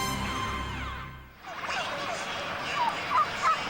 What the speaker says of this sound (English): that's a happy group of turkeys right there. You hear them?